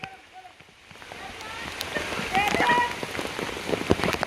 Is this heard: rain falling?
yes